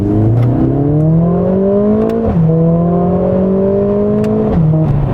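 A Mercedes-AMG CLA 45 S Shooting Brake with a 400-horsepower four-cylinder engine revs hard under full acceleration, its steady climbing drone broken by two quick, abrupt upshifts, loud and close from inside the car.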